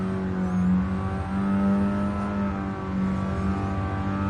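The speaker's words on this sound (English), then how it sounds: "this is a rotary engined car. As you can tell by the engine sound." Rotary-engined car in Gran Turismo Sport, its steady buzzing engine tone held high and loud with slight rises and dips in pitch, heard alone and close without talk.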